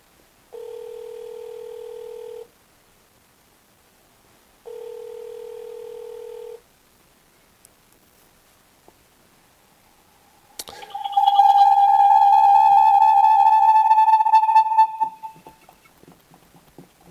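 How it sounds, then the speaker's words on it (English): Call tones from a ZOSI CCTV camera with a small screen calling a phone: two steady, evenly spaced beeps, then a louder, longer ringing tone that carries clear overtones, with no talk. "So straight away, my phone here saying someone is calling."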